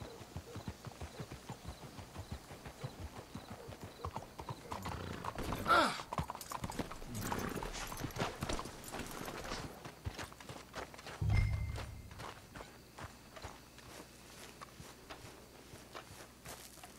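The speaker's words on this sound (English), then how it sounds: "Let's hitch the horses up ahead." Horses walking in Red Dead Redemption II, with steady close clip-clop hoof steps on the ground, a brief neigh and a soft snort partway through, heard alone without talk.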